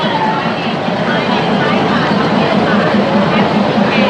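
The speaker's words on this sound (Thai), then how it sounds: "นี่คือรถไฟที่บ่าวโบมานะครับ" An ordinary Thai passenger train runs along a line through a trackside market, giving a loud, close, continuous rumble and rattle, with speech mixed in over the noise.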